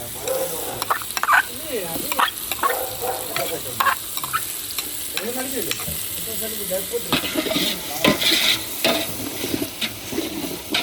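Ginger paste fries and sizzles in sesame oil, stirred repeatedly with scraping strokes over a crackling hiss, while people talk in the background.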